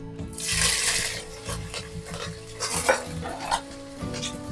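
Green chilies go into a mustard seed tempering for mango pulihora, and a spoon scrapes and clinks against the pan over a soft sizzle, with uneven bursts of stirring close by.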